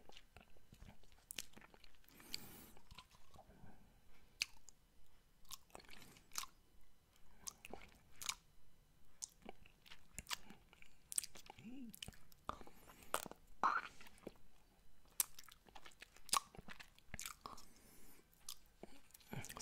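Close, wet mouth sounds from eating a strawberry lollipop: a steady run of clicks, smacks and crunchy bites, busy and intimate, with no talking.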